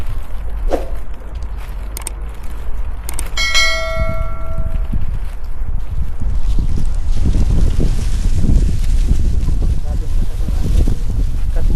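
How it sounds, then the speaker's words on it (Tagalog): Strong wind buffets the microphone with loud, continuous low rumbling gusts, while a bell rings once clearly in the background early on. "Takot ako kasi ang lakas ng hangin"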